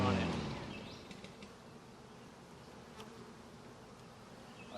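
Honeybees hum steadily inside an opened backyard hive in May, a dense close buzz with occasional individual bees droning past.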